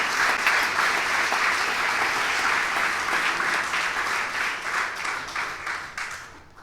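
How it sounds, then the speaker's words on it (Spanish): A church congregation breaks into loud, sustained applause during a sermon, a dense wash of clapping that holds strongly before gradually fading out near the end. "dale un fuerte aplauso al que vive y reina"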